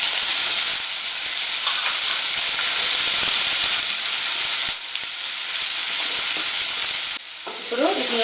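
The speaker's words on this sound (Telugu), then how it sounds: "ఇప్పుడు ఇదే ఆయిల్లోని నేను ఇక్కడ 4 ఉల్లిపాయలు తీసుకున్నాను. 4 ఉల్లిపాయలు కూడా ఫ్రై చేసుకోవాలి." Chopped onions fry loudly in hot oil in a home kitchen pan, making a dense, continuous sizzle and hiss. A few utensil scrapes and stirring sounds come near the end.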